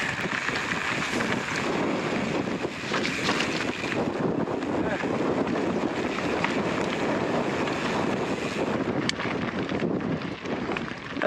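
Strong gusting wind buffets the microphone while riding a bike on a rocky trail near a cliff edge, a loud continuous roar that fills the whole stretch with no letup.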